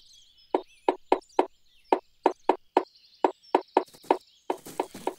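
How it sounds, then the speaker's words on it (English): Sharp, hollow knocks in quick bursts of three or four, a bird hammering at wood nearby, with faint high chirps between the taps. "It's a bird, and it's making holes in the tree."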